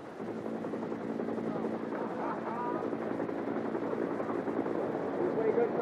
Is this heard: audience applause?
no